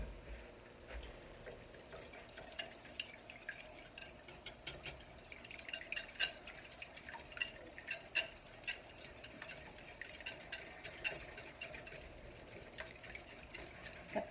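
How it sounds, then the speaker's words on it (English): Eggs being whisked, yolks and whole eggs beaten together in a bowl for lemon curd, giving a steady run of quick, light clinking and sloshing strokes close by with no talking. "So I'm going to combine my egg yolks and my whole eggs. I'm going to get that whisked together."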